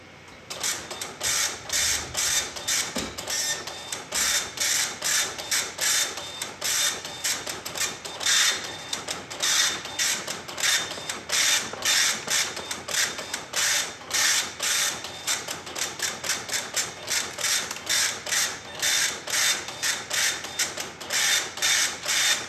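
A DEC LA324 dot matrix printer printing on continuous form paper, a fast rasping buzz of print-head passes in rapid repeated bursts with brief pauses, close and steady with no talk.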